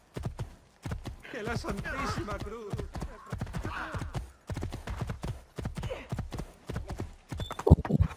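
Horse hooves clip-clopping in the Italian streets of Assassin's Creed 2, a steady trotting rhythm running beneath near-continuous talk, with a short whinny-like burst near the end.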